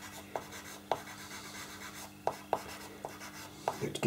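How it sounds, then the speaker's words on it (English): Ivory pencil sketching highlights onto paper for drawn hair: scattered short scratchy strokes, close and fairly quiet, spaced irregularly with brief pauses between them. "you can then go back in with your ivory pencil and just put in the lights"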